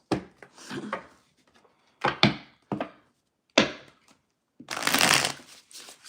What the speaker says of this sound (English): I'll be shuffling 3 times unless I'm guided to do more.